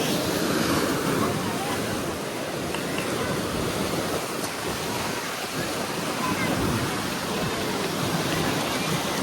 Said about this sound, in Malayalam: കടലുണ്ടി ബീച്ച്